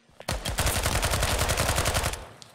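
Rapid automatic gunfire from the tactical shooter Ground Branch, a dense burst of shots fired in quick succession for about two seconds, loud and close, with no talking.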